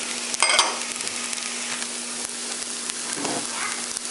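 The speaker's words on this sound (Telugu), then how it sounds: "కొంచెం పచ్చివాసన పోయేంత వరకు వేయించుకుంటే సరిపోతుంది" Vegetables frying in a pan for ridge gourd curry, a steady close sizzle with a few sharp spatula scrapes near the start and a softer stir toward the end, no voices.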